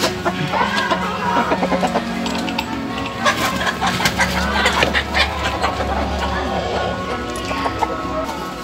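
Hens and a young rooster in a mixed flock of Silkies, layers and native chickens cluck and chatter continuously in a busy, fairly loud yard, with a person talking over the birds.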